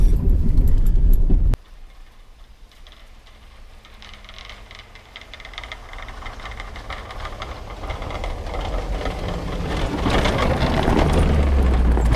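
Ford F-250 pickup with a Meyer Diamond Edge 7.5-foot plow pushing snow: a loud engine burst cuts off abruptly, then a low rumble and scraping noise builds steadily louder toward the end, with no talk.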